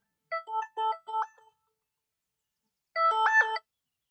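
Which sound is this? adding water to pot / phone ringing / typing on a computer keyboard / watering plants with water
phone ringing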